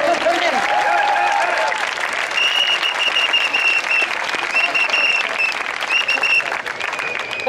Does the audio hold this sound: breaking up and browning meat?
no